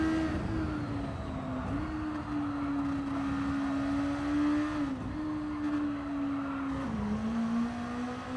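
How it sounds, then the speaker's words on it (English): A race car engine in Gran Turismo 7 hums at steady high revs, its pitch dipping briefly with a few gear shifts, loud and continuous with no one talking. "this car sounds like a race car"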